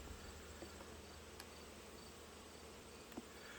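Honeybees from a captured swarm buzzing around an open hive outdoors, a faint steady insect hum with a few brief closer passes.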